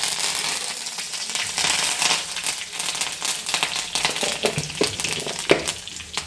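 Curry leaves, onion and mustard seeds frying in hot oil, a steady loud sizzle with scattered sharp crackles and pops throughout, no voices.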